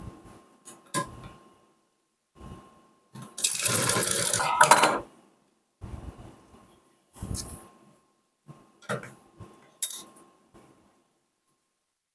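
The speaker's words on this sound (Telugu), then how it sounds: "మళ్ళీ ఇంకో కుట్టు వేసుకోవాలి." Hand-joining fabric with needle and thread, several brief scratchy pulls of thread through cloth separated by silences, one longer rasping draw in the middle, close and quiet.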